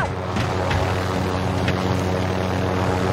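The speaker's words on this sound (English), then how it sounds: "I literally went right through your helicopter." A helicopter in Call of Duty: Warzone on the Caldera map gives a steady, loud rotor and engine drone that holds evenly throughout, with no talking.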